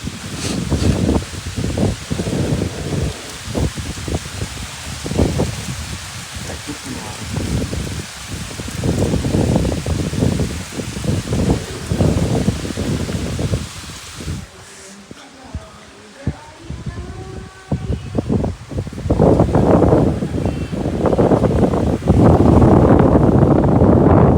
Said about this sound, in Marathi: काय जबरदस्त पाऊस चालू आहे